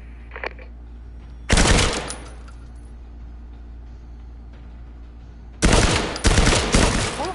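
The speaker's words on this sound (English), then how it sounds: "Pull the trigger to fire your rifle at the target." Rifle fire at a target in the VR shooter Firewall: Zero Hour: a loud, close burst of rapid shots, a pause over a low steady hum, then two more dense bursts in quick succession.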